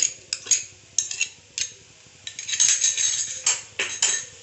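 A spoon scrapes and clinks against a metal pan while Schezwan veg fried rice is mixed, giving irregular close, bright taps and scrapes over several seconds with no talking.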